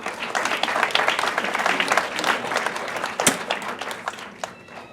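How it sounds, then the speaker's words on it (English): An audience gives Jeff a round of applause, dense close clapping from many hands, lively and sustained, gradually thinning toward the end. "Please give Jeff a round of applause."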